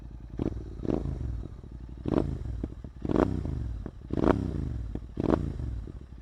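A GT motorcycle ridden on the road, its engine note rising and falling in repeated revving surges with a steady rumbling throb and faint clatter, close and continuous, with no talk.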